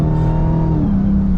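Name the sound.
2022 Dodge Charger Hellcat Widebody accelerating hard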